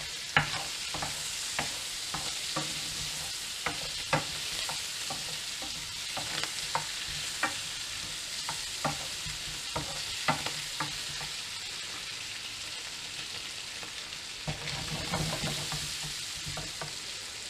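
Canned fish pan-frying in a pan, a steady soft sizzle under repeated light taps and scrapes of a utensil that continue at an irregular pace throughout.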